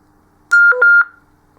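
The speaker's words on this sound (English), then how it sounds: "it beeps to let you know it started up" A short electronic startup beep sequence from a Kirisun DP770 DMR radio, a few clean tonal chirps lasting about half a second, loud and close against near silence.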